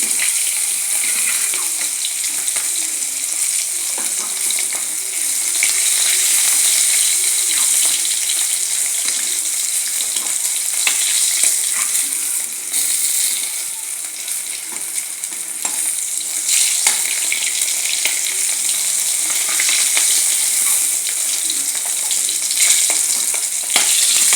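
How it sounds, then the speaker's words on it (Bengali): Pieces of katla fish fry in hot oil with a continuous, close, crackling sizzle that stays steady and even for a long stretch, with no talking over it. "একইভাবে আমি বাকি মাছগুলোকেও ভাজি করে নেব।"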